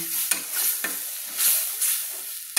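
Masala paste thinned with spice water is sautéed in a pan for a Bengali fish curry, the spoon scraping and knocking against the pan in a few distinct strokes over a soft continuous sizzle, close up.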